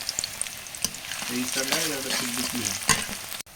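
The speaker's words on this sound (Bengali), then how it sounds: "এবার একটু ভালো করে ভেজে নেব যাতে পেঁয়াজের গন্ধটা চলে যায়।" Chopped onion frying in a generous amount of oil in a village-style kitchen, a steady soft sizzle running throughout with a few brief stirring scrapes, close and fairly quiet, no talking.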